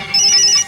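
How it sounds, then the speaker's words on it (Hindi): A telephone ringtone sounds as one short electronic tone burst of about half a second, loud and close, with a bright steady high pitch and no voices. "Come on, Malika, pick up the phone."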